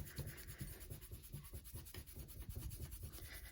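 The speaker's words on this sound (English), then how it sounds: "use the side of my hand to rub vigorously over those two ends" A hand rubs vigorously back and forth over two yarn ends to felt them together, a steady, close, scratchy friction with a quick repeating rhythm and no talking.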